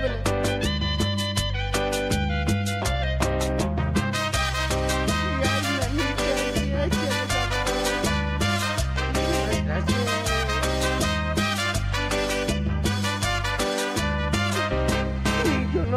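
The traditional New Year's song plays continuously and loudly, with a steady rhythmic beat, bass line and layered melodic instruments and no talking over it.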